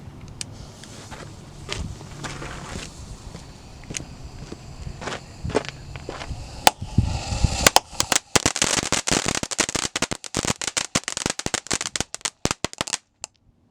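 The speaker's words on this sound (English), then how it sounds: "next up we have Sweets by Boomer Fireworks. Supposedly this has red sparks and crackling" A Boomer Fireworks Sweets novelty firework goes off: a few scattered pops and footstep-like scuffs give way to a loud, dense burst of rapid crackling that runs steadily for several seconds outdoors.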